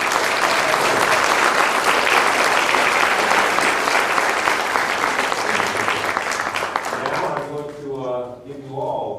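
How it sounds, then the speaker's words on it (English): Loud, dense audience applause at a gubernatorial candidates' forum, sustained for most of the stretch before tapering off as a voice begins speaking near the end. "And once again, a round of applause for"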